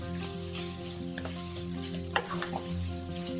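Sliced canned mushrooms go into a hot pan and sizzle steadily, a close, continuous frying hiss with a few small pops and stirring scrapes, no voices present.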